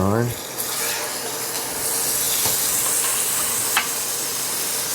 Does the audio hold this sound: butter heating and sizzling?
yes